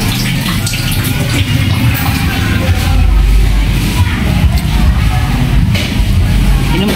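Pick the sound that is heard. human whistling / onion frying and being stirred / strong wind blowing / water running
water running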